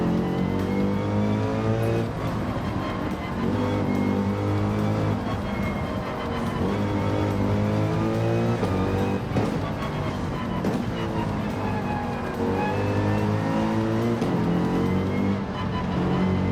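A race car engine in Gran Turismo 7 drones loud and close during a night race, revving through gear changes with rising and falling pitch, sustained without pause and no talking over it.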